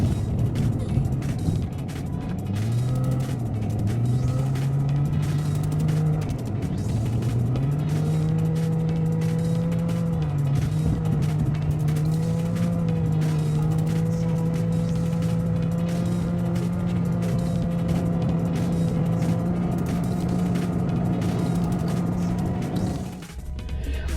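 A car drives steadily along a road in Japan, its engine holding a smooth, continuous hum with slight rises and dips in pitch, close and even for about twenty-three seconds before dropping off abruptly at the end.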